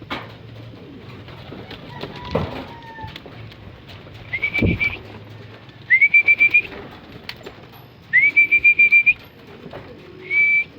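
Pigeons cooing at feeding time in a loft, several short rising coos repeating in bursts over soft background rustling and clatter, close by.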